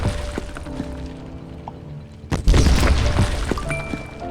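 A heavy explosion in a tank video game booms partway through, preceded by lighter game thuds and followed by a lingering rumble.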